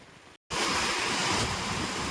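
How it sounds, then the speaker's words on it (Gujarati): Heavy rain and strong wind sweep across farm fields in a loud, dense broadband roar, after a moment of sudden silence. "પવન પણ એવો સારો છે જો ભાઈ વરસાદ સારો એવો પડવા માંડ્યો છે"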